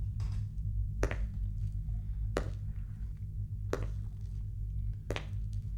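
Heavy, booming footsteps land about every 1.3 seconds over a deep, steady low rumble, each step a sharp thud.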